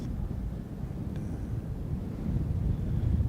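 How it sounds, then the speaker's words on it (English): Strong wind buffeting a microphone outdoors on an exposed mound, a continuous loud low rumble that swells slightly toward the end, with no talking. "you can see that the wind is really picked up"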